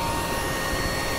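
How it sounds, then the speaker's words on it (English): A corn vacuum planter's vacuum motor drawing suction through a tube to the row units, a steady, loud broadband whine and rush that holds constant throughout, alone with no talk. "what you hear is a vacuum motor."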